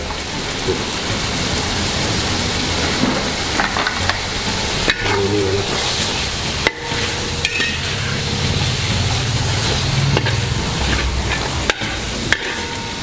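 Curry leaves drop into masala frying for Kerala-style mackerel, giving a loud, dense, continuous sizzle with occasional stirring clicks and scrapes throughout.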